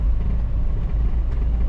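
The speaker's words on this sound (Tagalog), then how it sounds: "Maganda naman yung tunog ng makina." A vehicle's engine runs steadily during a ride on the roads of Dahilayan, Bukidnon, a continuous low rumble heard from inside with no break and no talking.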